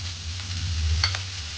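Broccoli goes into a hot pan of frying onion and gives a brief, soft, steady sizzle with a light stir or clink of a utensil partway through, close and alone.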